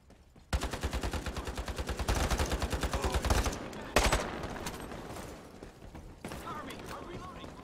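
Rapid P90 automatic fire in the shooter game Ironsight, a fast rattling stream of shots for about three seconds, then a short burst and scattered quieter shots amid game noise.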